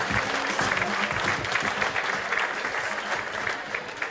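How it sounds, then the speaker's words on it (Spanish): Audience applause at the inauguration of an art and science exhibition hall, dense continuous clapping from many hands at moderate loudness, with faint voices underneath. "queremos saludar y recibir con un gran aplauso a nuestra directora ejecutiva"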